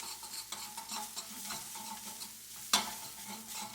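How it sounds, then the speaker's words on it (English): Ramen noodles being stirred into chorizo sausage in a frying pan, a steady sizzle with scraping utensil strokes and one sharp clack near the end, no voices. "I take the ramen noodles, mix those a little bit in the chorizo"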